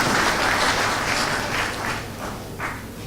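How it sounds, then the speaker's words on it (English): An audience claps together in a hall at a university meetup, a dense, steady burst of applause that gradually thins out. "I think we all should have a round of applause for our achievement."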